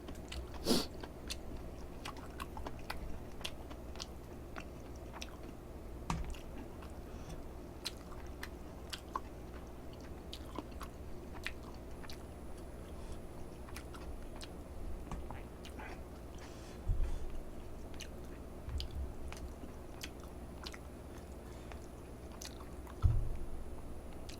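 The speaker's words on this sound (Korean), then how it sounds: "이거 두부를 잘라 먹어요" Someone eating budae jjigae with tofu and rice at close range makes steady soft chewing and wet mouth sounds through the whole stretch, with scattered crisp clicks and smacks and a few louder bites, with no talking.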